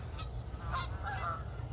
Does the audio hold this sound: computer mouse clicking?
no